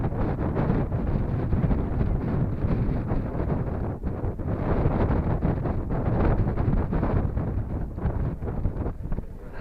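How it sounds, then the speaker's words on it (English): Strong wind buffets the microphone on a mountain top, a loud continuous roar and rumble through the whole stretch with gusty surges and no voices. "It was really windy up here on the mountain"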